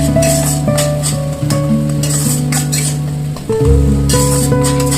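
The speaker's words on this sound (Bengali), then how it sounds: "এবার গুঁড়ো মশলাগুলো ভালো করে কষিয়ে নিতে হবে।" Ground spices, turmeric and Kashmiri chilli among them, fry in a pan while being stirred, a loud close sizzle with scraping strokes over a steady low hum of the stove.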